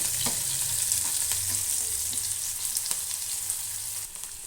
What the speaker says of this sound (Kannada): ಮೊದಲಿಗೆ ಇಲ್ಲಿ ಎಣ್ಣೆ ಹಾಕ್ಕೊಂಡು ಸಾಸಿವೆ ಹಾಕೋತಾ ಇದ್ದೀನಿ, ಮತ್ತು ಜೀರಿಗೆ, ಈರುಳ್ಳಿ ಹಾಕ್ಕೊಂಡು ಕರೆಕ್ಟಾಗಿ ಫ್ರೈ ಮಾಡ್ಕೊಳ್ಳಿ